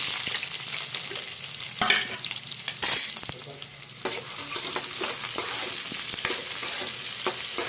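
Mustard seeds and cumin spluttering in hot oil for a dried fish curry, a close continuous sizzle broken by sharp pops and stirring clatters, no voices.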